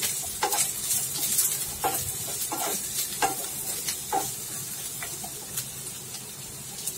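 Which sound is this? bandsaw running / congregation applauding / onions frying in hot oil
onions frying in hot oil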